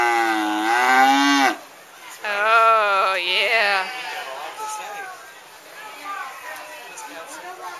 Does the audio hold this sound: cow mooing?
yes